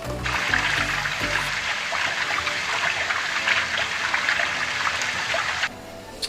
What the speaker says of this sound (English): with any fresh produce, I recommend giving it just a quick rinse before you go into it